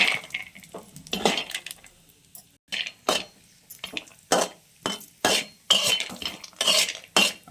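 Cashews roast in a pan, likely in ghee, for dry fruit laddus, stirred with a utensil that scrapes and clicks against the metal in a quick, uneven rhythm of separate strokes, close and fairly loud.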